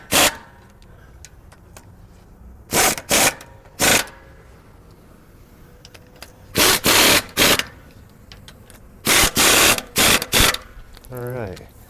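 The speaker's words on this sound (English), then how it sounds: "now we're gonna hit them with the air gun" A pneumatic air impact gun tightens track bar bolts on a Ford E450 motorhome, several sharp rattling bursts in short groups, close and loud, separated by quiet gaps.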